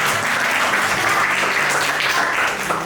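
A classroom of students bursts into loud, dense applause during a mathematics lesson, a steady wash of clapping held for a few seconds before easing slightly at the end.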